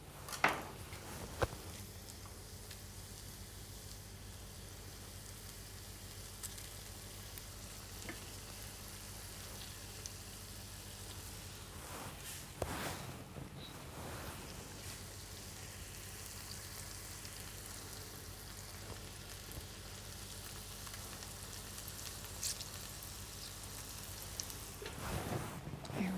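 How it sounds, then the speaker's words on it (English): Quiet, steady sizzling of apples frying in a pan with sugar and lemon, with a low hum underneath and a couple of brief stirring clatters. "So they're just starting to sizzle now."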